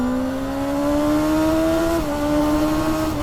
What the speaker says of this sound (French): Vraiment la sonorité du 4 cylindres quand elle commence à monter dans les tours et à rugir